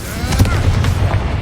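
A Confringo fire spell blasts in Hogwarts Legacy, a dense booming burst with crackling energy and a ringing tail, loud and close over game sounds.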